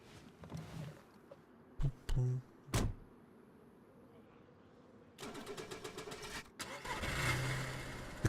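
A car in the survival game DayZ, set in Chernarus, clunks through a few door or handle knocks before its engine cranks and catches, then settles into a rough running rumble; quiet overall, with no talk.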